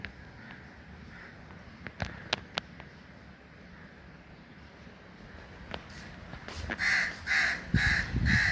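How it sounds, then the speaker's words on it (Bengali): A crow perched overhead caws several times in a quick series near the end, loud and close, after a quieter stretch with a few sharp knocks. "এই যে কাক বসে রয়েছে উপরে"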